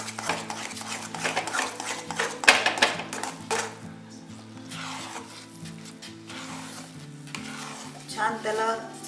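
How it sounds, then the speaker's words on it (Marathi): Ghee stirred into a ragi and jaggery mixture in a pan for a Malvani sweet, with repeated scraping and clanking of a spoon against metal, soft sizzling beneath and a low steady hum throughout. "आता जे राहिलेलं तूप होतं ते आपण यात घालणार आहोत"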